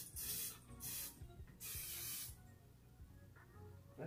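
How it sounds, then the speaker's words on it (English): Buttered cooking spray hissing from an aerosol can into the cooking chamber of a Rollie egg cooker, in three close, short bursts with quiet pauses between them. "So you got to spray in the cooking chamber."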